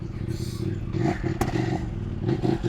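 A Kove 800X Rally motorcycle being ridden with the throttle rolled on and off gives a steady engine drone that rises and dips, with brief clattering spikes and a voice talking over it.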